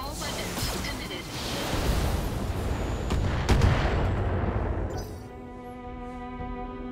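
BattleTech mech weapons fire, a rapid burst of booming shots and whooshing volleys swelling into a dense, loud barrage before cutting off to a low hum, with a voice speaking over it.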